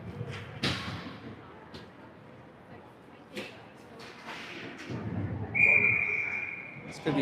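Referee's whistle stopping play during a junior hockey game, a single shrill tone sounding near the end amid arena crowd noise, skate scrapes and thuds.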